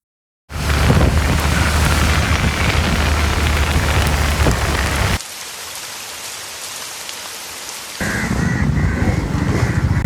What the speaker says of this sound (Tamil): பேஞ்சிட்டு தான் இருக்கு மழை